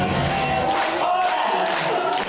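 Guests at a charity children's fashion show clapping and cheering for the young models, a lively crowd roar with bursts of applause and whoops, fairly loud and continuous.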